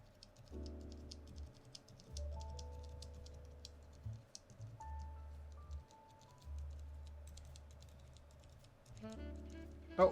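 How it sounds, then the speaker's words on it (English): Keys tapped one after another on a hotswap mechanical keyboard, a sparse run of light clicky presses over a low steady electronic hum, close and fairly quiet, with a sharper clack at the very end. "let me just try and type on every single key here"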